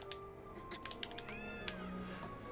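A cat meows in the video game Gravity Rush Remastered, several short rising mews mixed with faint clicking and an electronic tone, soft and fairly close.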